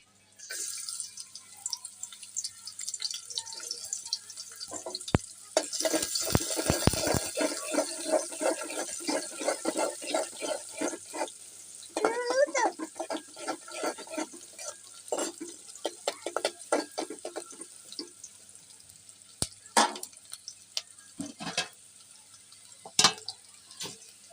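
Chopped onion sizzles in hot soybean oil in a pot, a dense continuous frying hiss with scattered crackles and pops that swells after the onion goes in and stays steady, no voices.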